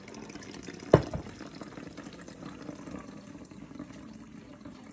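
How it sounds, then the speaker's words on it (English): Homemade kombucha poured through a strainer: a sharp splash at the start, then a soft, steady trickle of liquid that stays quiet and close. "when you pour it in, it'll strain"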